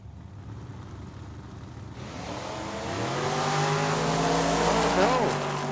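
Drag racing at Tucson Dragway: a 1979 Mustang II and a 1969 Mustang launch side by side. Engines rev and build into a loud rising roar with a short tire squeal, heard over a track announcer's voice.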